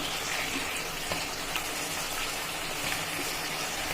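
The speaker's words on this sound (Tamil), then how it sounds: "அதை அப்படியே போட்டு எண்ணெயில் நல்லா வதங்கட்டும்" Cut eggplant and drumstick fry in oil in a home kitchen, giving a steady, even sizzling hiss with faint crackles throughout and no speech.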